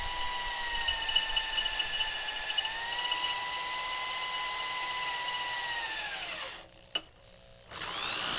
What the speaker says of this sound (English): now I can start drilling holes on the side flanges and drill the holes in the mounts